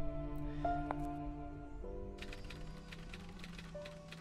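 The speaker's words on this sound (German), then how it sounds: "Der tippt da immer noch." In the video game 1954 Alcatraz, a typewriter clacks in faint, irregular bursts of keystrokes against sustained background music tones.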